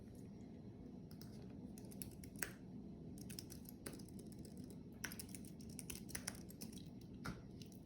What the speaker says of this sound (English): she's just going to type in